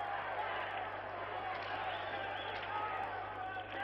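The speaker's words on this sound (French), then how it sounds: "Le coach américain applaudit lui-même les spectateurs qui applaudissent son équipe." Spectators at an Olympic USSR versus USA game applaud the American team, a continuous crowd roar of clapping and cheering that stays even and fairly distant throughout.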